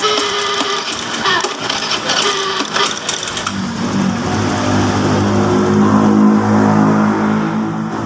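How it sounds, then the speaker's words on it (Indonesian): Fuel-injected motorcycle engine with a throttle-hesitation fault runs loud and close, first with rough clattering, then settling into a steady low drone with slight wavering. "Ini mesinnya sudah hidup ya"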